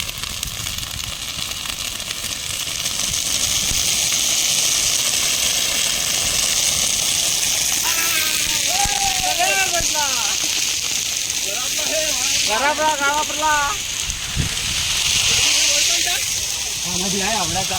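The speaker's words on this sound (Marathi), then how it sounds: "मित्रांनो हा बघा डिगो आग लावतोय" A fire set in an open field burning with a steady, loud roaring hiss and scattered crackle, while people talk over it partway through.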